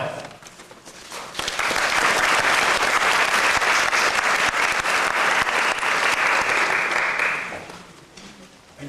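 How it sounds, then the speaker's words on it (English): An audience breaks into sustained applause, swelling quickly, holding steady for several seconds, then fading out. "It's always humbling to have applause before I speak"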